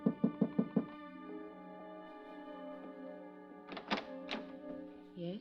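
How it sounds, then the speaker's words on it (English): Five quick, firm knocks rap on a hotel room door, close and distinct. A sustained musical tone follows, along with a short voice. "then I knocked on her door"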